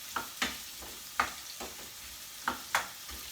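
Onion and garlic toasting in coconut oil in a pot, giving soft sizzling with a few sharp crackling pops spaced irregularly, close and fairly quiet with no talking.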